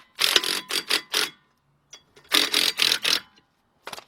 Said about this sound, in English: Got the pole driver with a 13mm socket, 3/8 drive, and as I go to tighten it up